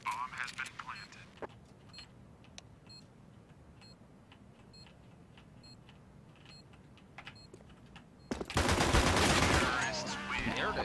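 P90 gunfire in CS:GO, a sparse string of short sharp shots followed near the end by a dense, loud sustained burst of rapid spraying fire, with game beeps around it.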